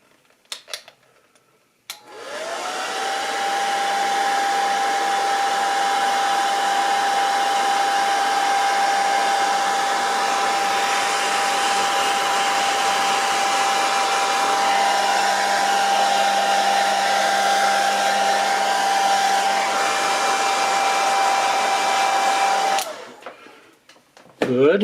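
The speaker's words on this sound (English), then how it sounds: "And give it just a little bit of a hair dry." A hair dryer blows on a part of a Singer 201K sewing machine, switching on with a rising whine and then holding a steady loud roar for about twenty seconds before cutting off.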